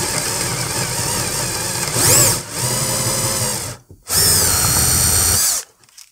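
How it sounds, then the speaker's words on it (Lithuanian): Power drill boring into a furniture panel through a drilling jig, loud and close, whining in two bursts separated by a short pause before stopping. "Va, išgręžiau"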